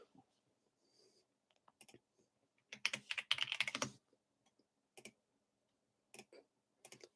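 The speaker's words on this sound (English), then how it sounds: "Got a new keyboard. I can't tell I'm not used to it." Fast clicking keystrokes on a new computer keyboard, a dense burst of typing followed by scattered single key taps in a quiet room.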